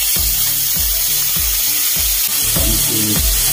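Onion frying in a pan while sweet and sour fish with talakitok is cooked, a steady loud broadband sizzle with rhythmic low knocking of a spatula or pan running through it, no voices.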